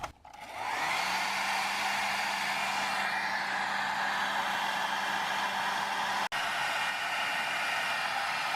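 A heat gun runs steadily on a rigid line of a Honda Civic Hybrid during a starter replacement, giving a loud, continuous blowing roar with a faint hum that cuts out briefly once.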